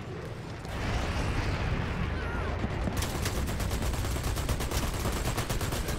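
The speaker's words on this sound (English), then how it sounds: "Okay, light machine gun now." A light machine gun fires in the shooter game Dirty Bomb: after a rumbling build-up, a sustained rapid stream of close, loud shots hammers on without pause.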